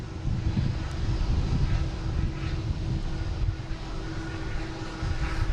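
Cape Air propeller plane in special 250 livery arriving at Boston Logan, a steady low engine drone with a humming tone, moderately loud and continuous with slight wind noise.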